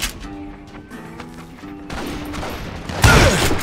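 Gunshots in the video game Call of Juarez Gunslinger: a sharp loud blast near the end follows quieter clattering game sounds and a short musical phrase.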